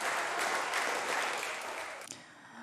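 Parliamentary applause after a socially focused budget speech, a broad, moderately distant wash of clapping that swells steadily and then thins out and fades toward the end.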